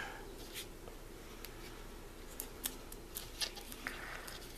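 Scissors snip through paper while a wing piece is trimmed down for a 3D butterfly card, a few short crisp cuts near the mic, quiet and spaced out with no talking.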